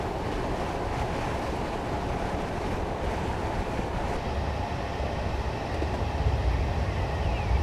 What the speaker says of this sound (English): You can really hear that draft though in the cab.